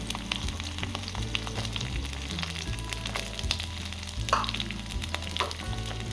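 Onion and capsicum frying in oil in a pan for baby corn Manchurian, a steady close hiss of sizzling with occasional stirring scrapes and small crackles throughout, no talking.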